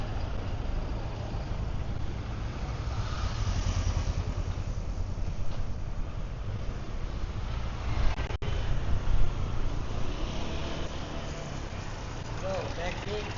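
Steady motorbike and traffic rumble in Phuket Old Town, Thailand, a continuous loud engine drone from nearby vehicles with a slight swell partway through, no pauses.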